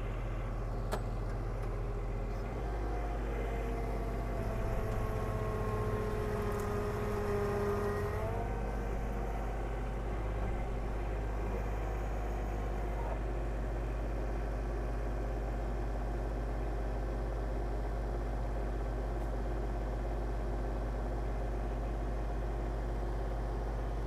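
John Deere 2210 compact tractor engine running steadily in low range four-wheel drive, a constant close mid-pitched drone with a brief shift in tone partway through, no talking over it.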